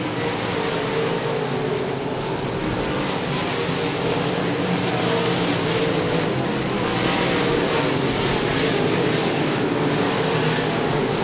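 Modified race cars lapping a speedway during a race produce a loud, continuous engine roar that holds steady and unbroken throughout.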